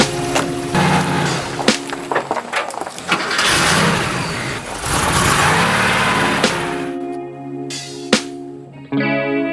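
A 1977 Porsche 911 engine cranks, catches and revs loudly nearby in rising and falling bursts, then drops back as the run winds down with a few sharp clicks near the end.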